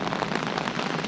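Heavy rain from Hurricane Harvey falls steadily near a flooding irrigation canal, a dense, continuous hiss of drops striking surfaces with no pauses.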